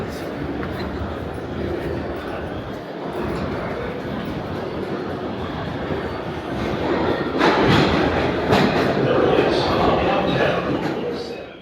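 A New York subway train runs between stations with a continuous rumbling roar and rattling wheels, growing louder partway through, while someone talks over the noise.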